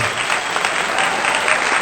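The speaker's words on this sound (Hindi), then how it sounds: "पर अपने लिए जोरदार तालियां बजाइए" Loud, sustained applause from an audience at a Hindi kavi sammelan poetry gathering, a dense steady clatter of many hands filling the whole moment with no pauses.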